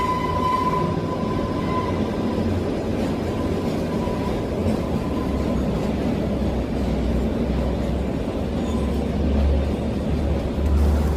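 A heritage train runs on the Kalka–Shimla narrow-gauge line, with track 2 ft 6 in wide: a continuous low rumble and rattle of wheels, steady throughout with a few heavier thumps near the end and no voices.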